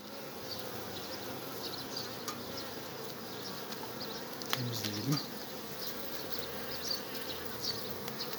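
A dense, steady buzz of a medium-strength honeybee colony hums up close and continuous, with a few louder passes as individual insects fly near.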